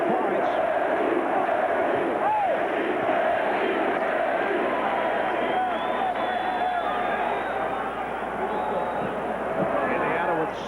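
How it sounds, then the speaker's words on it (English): Basketball arena crowd at a 1994 Pacers versus Knicks playoff game, chanting for a player, a loud sustained roar of many voices with rhythmic swells, under continuous commentary. "The crowd chanting for Reggie Miller with 23 points."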